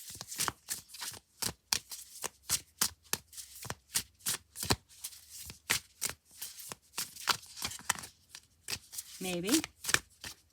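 Tarot cards are shuffled by hand in quick, crisp riffling bursts that repeat steadily and close up, while a person speaks briefly near the end.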